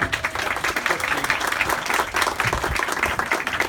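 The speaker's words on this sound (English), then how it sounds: "one more round of applause for the" A crowd at the commissioning ceremony for the M/V Seastreak Commodore ferry gives a steady round of applause. The dense clapping fills the whole stretch at a moderate level, with no speech over it.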